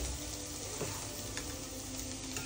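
Egg, carrot and potato frying together for noodles, a steady close sizzle with faint crackles running evenly throughout, no voices.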